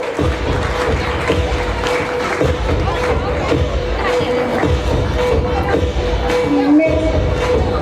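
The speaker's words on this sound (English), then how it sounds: "Parents, big round of applause for Vedashri Bagal" A school annual function crowd fills the space with loud, continuous applause mixed with cheering and general babble, sustained throughout without a break.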